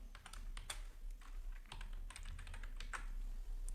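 Computer keyboard keys clatter close by and fairly quietly in rapid, uneven bursts while HTML headings are typed, with no voice over the clicking.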